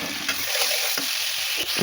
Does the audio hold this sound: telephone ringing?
no